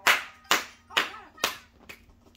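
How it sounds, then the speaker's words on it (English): Five sharp hand claps, fairly close and evenly spaced about half a second apart, the last one softer, with no talking over them. "Stop clapping."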